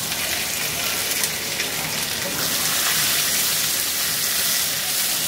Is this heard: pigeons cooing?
no